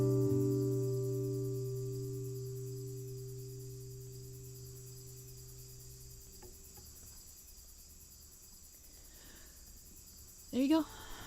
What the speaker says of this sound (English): I don't know if the crickets are still going